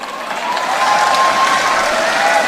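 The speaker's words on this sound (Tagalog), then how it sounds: "saan yung pumapalakpak dyan?" Crowd at a Philippine political rally for a Marcos-backed Senate slate breaks into applause, a brief steady burst of clapping that holds at full strength for a couple of seconds, close and loud.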